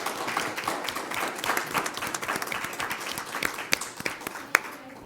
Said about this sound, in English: Mr. Deeg, if you'd stand so we can give you a round of applause